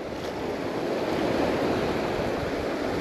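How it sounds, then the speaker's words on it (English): Steady wind buffets the microphone on a beach at low tide, mixing with the continuous wash of surf over clear shallow water and sandbars; a loud, unbroken roar with no talk. "the wind is right at our face"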